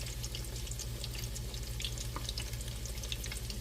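Maryland style crab cakes fry in a pan with a steady, continuous sizzle and bubbling crackle that holds at an even level throughout, close and alone with no talking.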